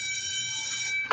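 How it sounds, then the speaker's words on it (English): Bitcoin price alarm beeping, a high steady electronic tone held for about a second before a brief change at the end, close and clear with no voices. "Is that a price alarm?"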